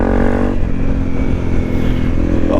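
Honda CRF 250 Rally motorcycle engine running close and loud, a steady single-cylinder drone with a slight pitch shift partway through, and no talking.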